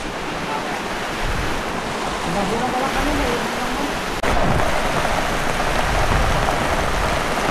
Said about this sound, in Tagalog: Ay, mga ganyang ulan.